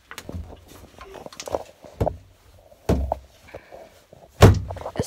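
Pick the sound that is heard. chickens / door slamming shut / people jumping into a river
door slamming shut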